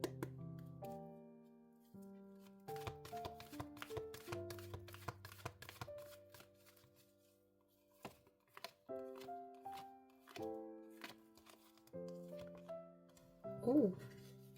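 Tarot cards are shuffled and drawn, giving soft papery clicks and slaps scattered over gentle background music with sustained tones.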